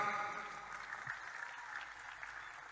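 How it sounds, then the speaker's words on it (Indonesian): A gathered audience at a religious talk claps for Banyuwangi, a faint, diffuse spread of applause heard at a distance. "Ya, tepuk tangan buat Banyuwangi."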